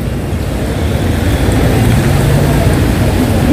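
Heavy, steady rain falls on a Hong Kong street after flooding, a dense, even hiss of close drops that runs unbroken throughout, with faint traffic-like rumble beneath.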